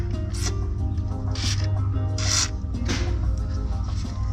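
Several short bursts from an aerosol spray can hiss close by onto the wheel bearing nuts of a 2002 Chevy Silverado, spaced unevenly, over a low rumbling background.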